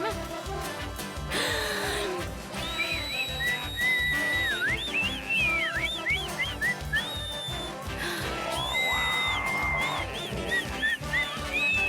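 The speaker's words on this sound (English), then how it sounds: "What I need to do is overindulge in whistling." A cartoon character whistles a long, wandering, warbling melody of sliding high notes, loud and close, over a steady rhythmic musical backing.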